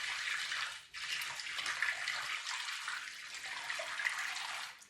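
A liquid plaster-like mix is poured steadily into a pottery wedging box, making a continuous splashing, rushing pour with a brief dip near the start, close and fairly loud, with no talking.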